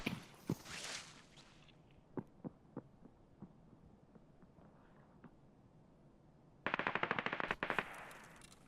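Rapid automatic gunfire in Escape From Tarkov's Arena mode, with scattered single shots spaced through the middle and a loud, dense closing burst of fire near the end over a low background hum.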